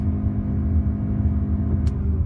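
A 2017 Honda Accord hybrid with a 4-cylinder engine drives and accelerates, giving a steady low engine rumble and road noise from inside the cabin throughout.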